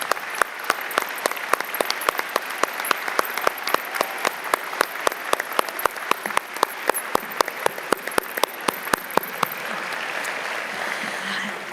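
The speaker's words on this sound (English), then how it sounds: "another round of applause for all of our 2021 honorees" Audience applause for 2021 honorees at a National Philanthropy Day event, many hands clapping with sharp, distinct claps standing out, the clapping thinning and fading away toward the end.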